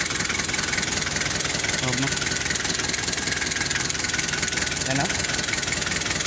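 An Isuzu 4JG2 diesel engine idles steadily after repair, a continuous close mechanical drone running the whole time, with someone speaking briefly over it.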